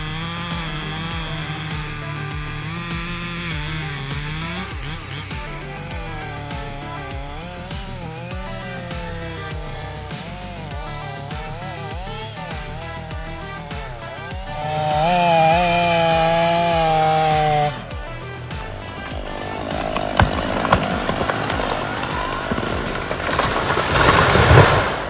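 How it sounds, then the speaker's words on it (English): A chainsaw cuts firewood logs outdoors, its engine whining steadily with pitch shifts as the chain bites into the wood and a louder surge partway through, all close up and with no talking. "With a rotation speed of about 2400 revolutions per minute, the chainsaw's cuts become very sharp."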